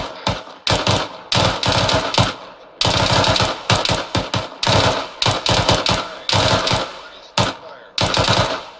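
Automatic weapon fire in the military co-op shooter Arma 3: loud, close, rapid bursts of gunshots, repeated again and again with brief gaps between bursts and no talking.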